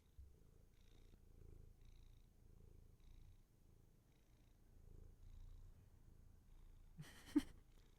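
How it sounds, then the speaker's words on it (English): A male cat purrs softly and steadily at close range, a low rumbling pulse that swells and fades with each breath, then a brief louder sound near the end. "Could you hear him purring?"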